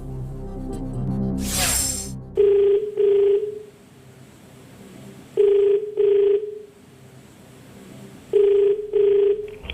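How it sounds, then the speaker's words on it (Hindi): A telephone rings three times in double-pulse bursts with pauses between, preceded by a brief electronic whoosh and background music, on the Kaun Banega Crorepati TV quiz show set. "सीतामढ़ी में फोन लगाया जाए"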